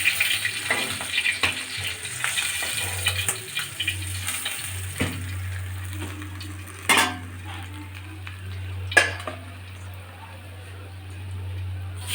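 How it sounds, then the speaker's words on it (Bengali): Pieces of rohu fish fry in a pan for a light Bengali curry with potato and drumstick, sizzling steadily under a low hum, with occasional utensil scrapes and clinks and a voice speaking at times. "আমি সমস্ত মাছগুলো একই রকম করে ভেজে নেব"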